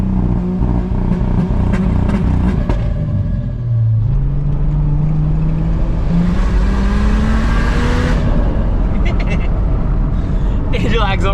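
Turbocharged Barra inline-six in a Nissan Patrol, fitted with a smaller turbo and anti-lag, revs hard and loud. Its engine note climbs steadily, then breaks into rough bursts near the end.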